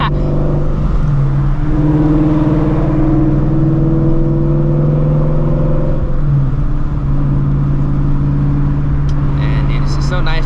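A straight-piped Shelby GT350 roars under hard acceleration, its loud engine note climbing through gears with a shift break near the middle, continuous and close from inside the cabin.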